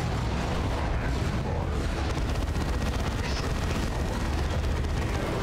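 Repeated grenade blasts and heavy rumbling booms from the strategy game Dawn of War 2: Chaos Rising, dense and continuous throughout, with battle noise layered under a low background voice.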